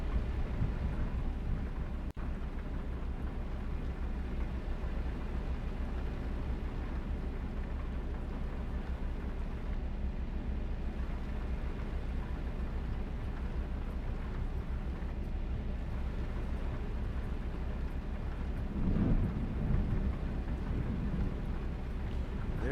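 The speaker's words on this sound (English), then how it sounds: "There's a storm overhead, and the rain is falling down." Thunderstorm with steady rain in the Euro Truck Simulator driving game, a continuous low rumbling wash of rain with a deeper roll of thunder swelling near the end, no talk.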